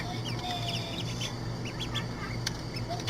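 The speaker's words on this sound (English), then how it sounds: "Baby duck." Seven little ducklings on a replayed phone video give high, quick peeps over a steady background hum, with no talking over them.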